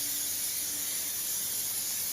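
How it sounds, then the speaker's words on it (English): Hairspray is sprayed over a floral arrangement of grasses and seeds, a steady close hiss of aerosol mist that runs unbroken and evenly loud throughout. "Give it a quick hairspray"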